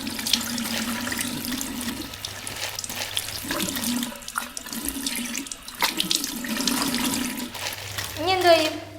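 Tap water runs steadily into a sink as a plastic cover is washed, with splashing and gurgling throughout and a brief rising squeak near the end. Voices speak faintly underneath.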